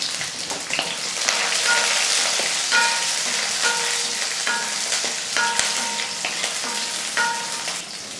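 Chopped garlic, about ten cloves, and green chillies fry in oil in a home kitchen pan, a continuous close crackling sizzle with occasional scraping stirs and clinks of a utensil.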